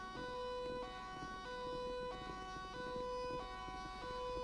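A two-tone ambulance siren in the video game FiveM alternates steadily between high and low pitches, switching every second or so, with a low engine-like rumble underneath.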